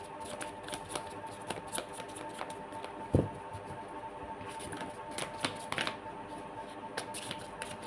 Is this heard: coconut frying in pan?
no